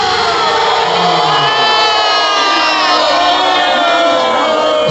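Crowd of people on boats off Cancun shouting, whooping and cheering loudly and continuously, a dense wash of many voices carrying across the water for the whole stretch.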